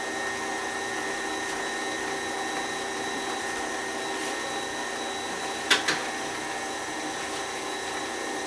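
An electric mixer whirring through banana bread batter, a steady motor hum with a tonal whine throughout and a couple of brief clatters partway through.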